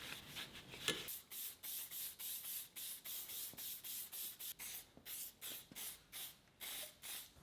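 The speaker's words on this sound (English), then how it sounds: "now I'm giving it a wipe down with alcohol" Alcohol being wiped over a metal sling bow frame with a cloth, a steady series of rhythmic rubbing strokes, close and fairly loud, repeating about once a second with no talking.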